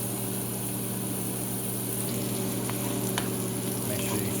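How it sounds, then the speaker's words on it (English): Tomatoes cook in a pan with seasoned salt, giving a steady close sizzle under a constant low hum, with a few faint scrapes from stirring. "Add your tomatoes and let those cook a bit."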